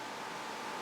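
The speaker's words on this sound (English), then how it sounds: "So you might hear a little bit of the air conditioner in the background." An air conditioner runs in the background of a room, making a steady, even broadband hiss with a faint tonal hum. It sounds constant and moderately loud, with no voices.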